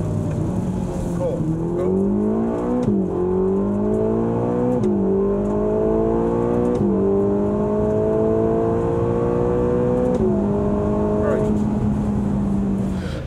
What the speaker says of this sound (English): we did the runway drive. It was a 200 kilometre an hour, like straight line